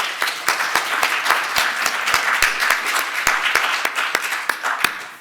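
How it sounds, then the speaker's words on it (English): An audience at a talk on young people's experiences of illness applauds the speakers, a steady wash of clapping with a few loud nearby hands striking crisp, regularly spaced claps above the crowd for about five seconds. "So we'll give them another round of applause."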